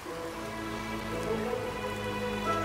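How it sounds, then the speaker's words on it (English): Steady rain falls in the video game A Hat in Time, a continuous even patter that holds at a constant level throughout, with tonal game music running beneath it. "And it's still raining."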